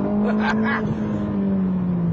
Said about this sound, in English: The best bit about this new 430 is the engine.